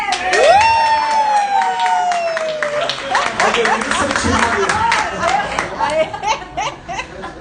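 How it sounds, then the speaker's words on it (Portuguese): A church congregation gives a standing ovation, cheering and clapping with whoops and excited shouts over scattered applause, lively and sustained for several seconds. "você vai aplaudir de pé"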